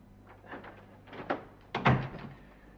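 A door shutting indoors with a few soft shuffles and knocks, ending in a firm thud near the end, fairly close and moderately loud, with no voices.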